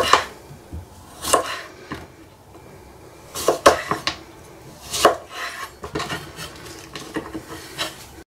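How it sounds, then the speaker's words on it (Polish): A knife slices cucumbers into rounds on a cutting board in irregular, crisp strokes, close by, with soft scraping between cuts. "Najlepiej jest naoszczyć nóż i pokroić te ogóreczki w plasterki."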